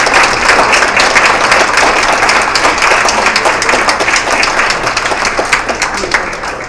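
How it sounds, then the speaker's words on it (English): A concert audience gives the Lincoln High School chamber choir instructors a round of applause at a holiday show, dense steady clapping filling the whole stretch and easing a little toward the end. "let's give them a round of applause"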